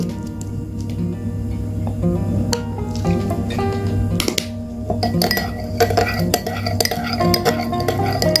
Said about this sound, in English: Mix well all the ingredients like so